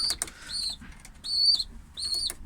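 A pigeon flaps its wings in several short bursts, close and fairly loud, with brief coos and chirps between the flurries and no talking.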